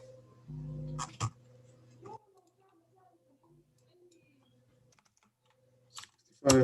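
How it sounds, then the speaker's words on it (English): Computer keyboard typing during a coding job interview: a few scattered clicks and key taps, with a low hum and some faint background sounds between them, and a louder clack at the end. "let's type this down"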